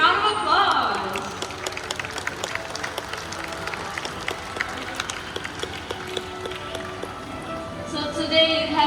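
A large outdoor audience claps steadily and warmly for the birds at the Singapore Bird Paradise show, a dense continuous round of applause lasting several seconds with crowd murmur mixed in.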